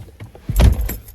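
Someone climbs back into a car on a windy day: a door thuds shut with a short clatter of keys, then a second softer knock, close and brief with no talk.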